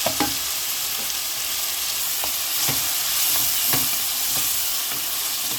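Onions frying in oil for a beef spleen and liver curry, a steady close sizzle punctuated by several sharp stirring knocks spaced about a second apart, no talking.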